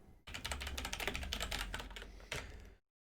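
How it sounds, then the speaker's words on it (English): Loud, rapid clicking of a computer keyboard during fast typing, close and continuous for under three seconds, then silence. "Sorry about the loud clicking."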